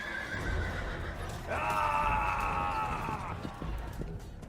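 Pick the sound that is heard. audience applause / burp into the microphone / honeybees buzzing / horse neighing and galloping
horse neighing and galloping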